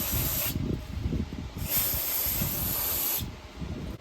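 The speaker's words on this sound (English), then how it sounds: "And then you just spray it out with some brake cleaner." Brake cleaner sprays from an aerosol can onto the brake caliper bracket of a 2019 Ford Fiesta: close, loud hissing bursts, a brief first spray followed by a longer sustained one, with nothing else heard.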